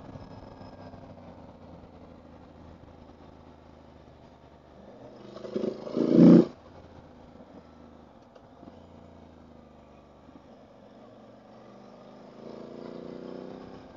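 An Aprilia Tuareg 660 motorcycle engine on a narrow, twisty downhill road: a low, faint running drone with one short, loud rev burst near the middle before it settles back.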